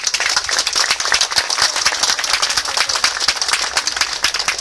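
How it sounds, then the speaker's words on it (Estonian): A crowd gives loud, dense, steady applause at the opening of the sixth Nõmme Kerese street chess tournament, sustained for the full few seconds with no talking. "See aasta võib teha aplausi küll neile."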